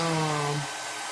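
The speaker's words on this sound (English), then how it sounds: "heat gun. Just get a little warm so it can, not warm that you're gonna burn it" A handheld heat gun blowing on a craft mold, a steady whirring hum that winds down partway through the short stretch.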